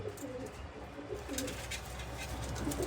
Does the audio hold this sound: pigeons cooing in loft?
yes